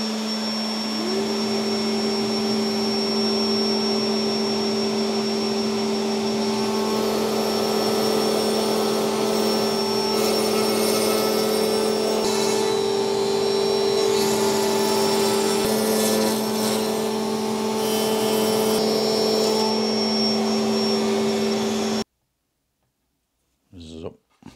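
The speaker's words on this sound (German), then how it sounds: "können wir hier schon mal am Korpus die Fräsung machen, da wo die Rückwand nachher reinkommt." A router cuts a groove into the side of a wooden cabinet carcass for a 13 mm back panel, a loud steady high whine that holds for about twenty seconds and then cuts off, followed by a brief clatter.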